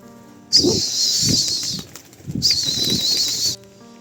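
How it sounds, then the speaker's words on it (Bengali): Seven pigeons burst into flight with a loud, close flurry of flapping wings in two bursts separated by a short lull, wingbeats rustling continuously with no voices. "এই যে 7টা পায়রা উড়ে দিলাম।"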